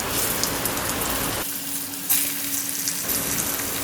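Stuffed bitter gourds frying in hot oil with a mustard-seed tempering of curry leaves, turmeric and asafoetida on a low flame, a loud, close, continuous sizzle with a brief stir-like rustle partway through.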